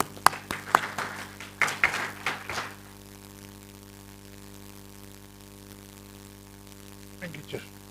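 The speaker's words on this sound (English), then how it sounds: "Another round of applause." A small seminar audience at an economic policy gathering gives a brief burst of scattered claps for about two and a half seconds, then the room falls quiet apart from a low electrical hum and a faint sound near the end.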